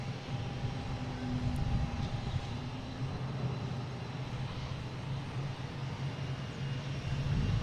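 A Virgin Atlantic airliner lands at Boston Logan airport, heard as a steady, broad engine roar that swells slightly at moments and holds throughout, with no talking.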